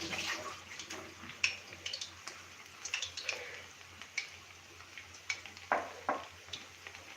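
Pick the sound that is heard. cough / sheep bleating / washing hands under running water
washing hands under running water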